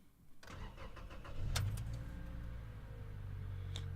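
A 2007 Toyota Tacoma engine cranks briefly and catches, then settles into a steady, close idle rumble with no talking.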